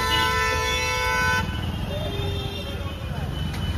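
Car horns blare in heavy festival traffic on the way to Lalbaugcha Raja in Mumbai, a long loud honk followed by shorter distant toots over crowd and engine noise, with talk throughout.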